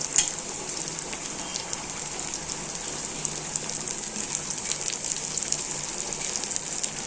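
Masala-coated fish fries in hot oil with a constant bright, crackling sizzle and scattered popping spatters, close and steady throughout with no voices.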